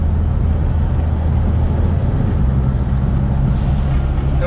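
A Volkswagen Rabbit truck engine running while cruising along the road, heard from inside the cab as a loud, steady, low drone with constant road rumble and no talk.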